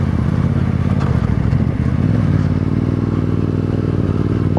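A motorcycle engine runs steadily and loudly on a mountain track near Nanga Parbat, Pakistan, with a constant low rumble and some clatter and scraping throughout, no talk.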